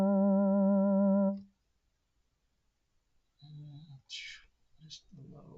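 Ableton Operator synth playing a poly keys tone with sine wave LFO modulation, a sustained harmonic-rich note wobbling in pitch for about a second before cutting off, followed by quiet and then brief talking.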